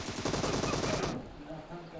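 Rapid automatic gunfire rattles loudly in Free Fire, a mobile battle royale shooter, as a dense burst for about a second before cutting off to a quieter game background.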